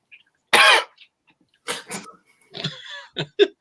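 A voice imitates a cough: one loud, harsh burst, then a few rougher throat-clearing sounds and breathy noises close up.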